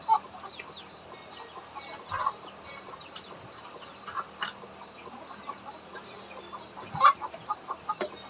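Chickens cluck and chirp in a steady, busy chorus throughout, fairly close, with scattered louder calls and a low background hum.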